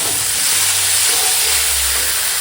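Mixed vegetables with ridge gourd, drumsticks and spinach sautéing in a pan for a katla fish curry, giving a loud, steady, close hiss of frying that runs unbroken throughout with no talk.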